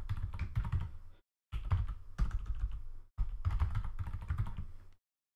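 Keys clatter on a computer keyboard as a password is entered during virtual machine encryption setup in VMware Workstation, three bursts of rapid close typing separated by short pauses.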